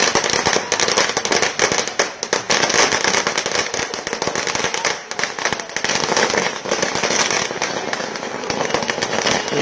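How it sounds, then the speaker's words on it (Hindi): Dense, continuous crackling bursts of firecrackers and fireworks go off at a political victory march in Delhi, loud and sustained with rapid overlapping pops and crowd noise underneath. "आतिशबाजी और उसका धुआं आप देख रहे हैं"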